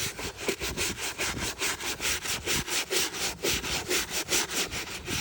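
A brush scrubs a 2014 Nike Back Board sneaker during cleaning. The rapid, rhythmic back-and-forth strokes come about four times a second, close and steady, with no voices.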